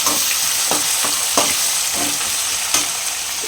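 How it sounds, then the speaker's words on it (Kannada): Onions fry in a pan for tamarind chitranna, a close, steady sizzle punctuated by several crisp scrapes of a spoon stirring at irregular intervals, with no talking. "ಸೊ ಈರುಳ್ಳಿ ಹಾಕ್ಕೊತಾ ಇದ್ದೀನಿ."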